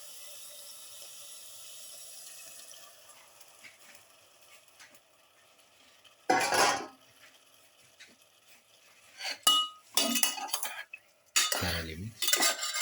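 Japanese quail is mixed into a seasoning mixture in a bowl, with faint background hum giving way to bursts of clinking utensils and scraping against the dish, several louder stirring clatters near the end.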